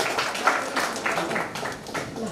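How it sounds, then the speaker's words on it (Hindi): A seated audience at a stage function gives a short round of fairly soft, scattered applause that tapers off. "आप ताली बजा दो।"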